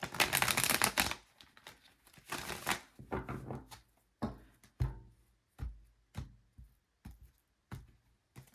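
Tarot cards are riffled in two loud bursts, then a series of soft, evenly spaced taps as the deck is squared and handled up close.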